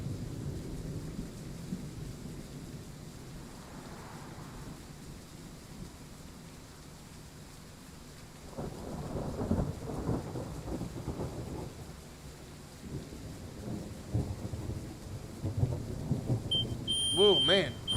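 Thunderstorm in the Train Sim World 4 railway game, a long rolling thunder rumble building and breaking in heavy waves under constant rain hiss, loud and sustained, with a faint voice briefly in the background.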